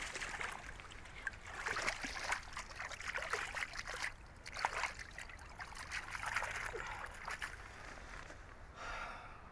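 Water splashing and trickling over a freshly caught, bled salmon or trout at the waterside, a steady hissing rush close by that swells and fades in waves, with no talking.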